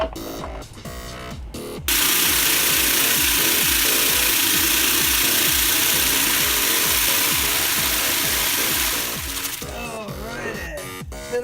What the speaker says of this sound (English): let's get on to grinding that rock pattern.